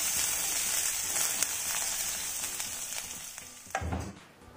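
Chopped shallots fry in oil with mustard seeds, a fairly quiet, even sizzle with light crackle, fading toward the end after a soft knock of utensil on pan.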